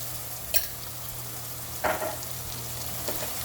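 Ginger garlic paste sizzling in a pan of oil while making carrot fried rice, a constant frying hiss with a few spoon scrapes and knocks against the pan, no talking.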